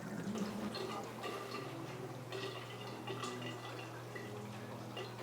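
Water drains from a tank through a PVC tube into a bucket, a close, steady trickling flow with small dripping and splashing textures, fairly quiet.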